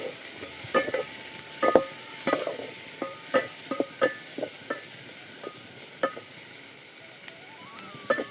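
Tomatoes and onion sizzle in a pan under a steady fry, while a utensil stirs and scrapes against the metal in a run of sharp clinks at irregular intervals.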